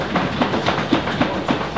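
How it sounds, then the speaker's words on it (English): A live show audience stamping their feet in a steady, fast rhythm of thudding beats, loud and close like a crowd pounding the floor together, with no talk over it. "Stamp your feet for me."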